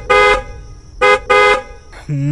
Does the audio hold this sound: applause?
no